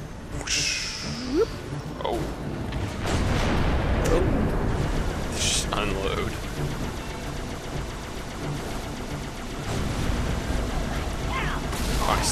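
Rocket fire from Marines in the video game Halo 3, a dense continuous roar of blasts and explosions with game effects layered throughout, while a person talks over the action.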